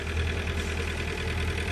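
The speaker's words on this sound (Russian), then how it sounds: "Проверяем двигатель перед каналом." Yacht engine running steadily during a check before entering the Panama Canal, a loud, low, even drone with a rhythmic throb and no talking.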